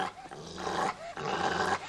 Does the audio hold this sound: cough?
no